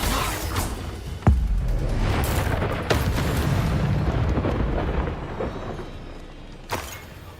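The Confringo blasting spell in a video game goes off as a heavy booming explosion with a rumbling roar, followed by a second, lighter blast several seconds later.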